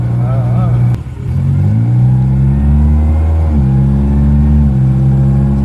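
An old car's engine revs up and settles in repeated stepped rises, its cracked exhaust giving a loud, raspy, close rumble that briefly dips before climbing again.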